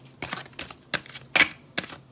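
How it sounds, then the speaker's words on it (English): Tarot cards are shuffled in four or five short, crisp riffling bursts with brief pauses between them, close up and fairly quiet. "A bit tough to shuffle"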